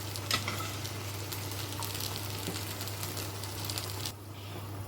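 Beans tipped into a pan of frying plantain, giving a steady close sizzle and crackle with a few soft stirring clatters, a brief sharp clack near the start, and the frying quieting slightly toward the end.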